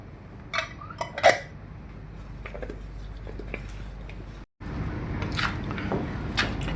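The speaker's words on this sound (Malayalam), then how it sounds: "ഇനി നമ്മൾക്കിത് എല്ലാം കൂടെ ചേർത്തൊന്ന് മിക്സ് ചെയ്യാം" Salad and cream cheese are tossed in a bowl with clinking utensil strikes against the dish and soft mixing sounds, a brief gap partway through, and no speech.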